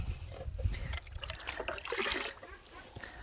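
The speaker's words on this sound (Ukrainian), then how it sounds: "давайте будемо розводити наш мідний купорос 5 літрів води" Water being poured into a bucket to dissolve copper sulfate for a spring garden fungicide spray, a continuous close splashing trickle with a brief lull partway through.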